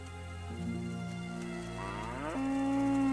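Cattle moo inside the Kingdom Come: Deliverance game, with a long, steady, drawn-out low moo that rises and shifts pitch partway through, heard alone over a quiet rural backdrop.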